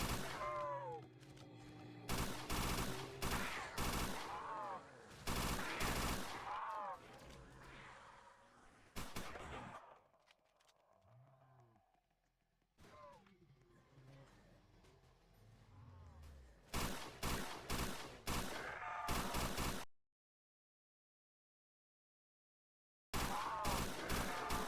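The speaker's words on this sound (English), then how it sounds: "Now let me demonstrate the module in action here." Fortress assault rifle firing in the Roblox game Project Lazarus, with repeated loud bursts of automatic gunfire separated by short pauses, a quieter stretch in the middle and a silent gap near the end.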